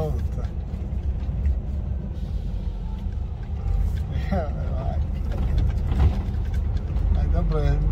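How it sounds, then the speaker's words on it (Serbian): A car passes on a road in England, its engine and tyre rumble steady and fairly close under continuous in-car noise, with people talking over it throughout. "eto auta, eto auta."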